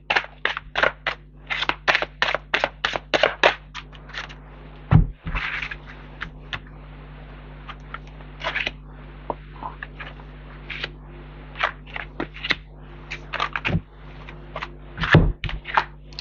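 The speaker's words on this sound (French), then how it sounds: "On va prendre 3 cartes." Oracle cards being shuffled and drawn for a daily tarot reading: quick bursts of crisp card snaps and slaps, with a few heavier taps on a table, close and alone without talk.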